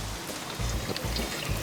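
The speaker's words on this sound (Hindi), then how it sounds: "यहाँ इतनी बरसात हो रही है" Heavy rain falling steadily, a dense continuous hiss and patter with no talk over it.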